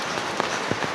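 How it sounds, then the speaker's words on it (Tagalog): Heavy rain falls outdoors as a dense, continuous hiss, with a few louder drops spattering close by. "Talagang malakas ang ulan mga kabiday."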